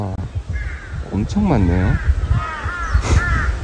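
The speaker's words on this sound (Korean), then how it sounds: "까마귀 여기 천재예요. 까마귀 천재." Crows caw repeatedly in a nature recreation forest, several harsh calls close by in an uneven rhythm, mixed with people talking over them.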